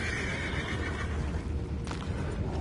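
A horse neighs in the Western game Red Dead Redemption 2, a loud whinny over a noisy background, with a few hoof clops and rustling around it.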